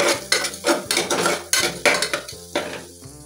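A spoon stirs chicken pulao masala in a metal pot, with several loud, close clanks and scrapes against the pot's side over a soft sizzle.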